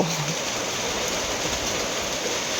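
Heavy rain pours down at night, a dense, loud and unbroken roar of water close by with no let-up and no voices.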